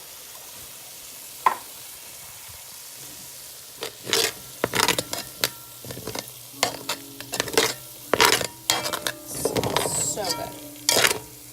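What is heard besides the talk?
utensil hitting a pan while cooking tomato sauce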